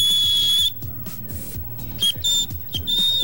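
A person gives loud, sustained whistles on a studio game show, one long piercing tone followed by several shorter bursts over a rhythmic musical backing, with no talking.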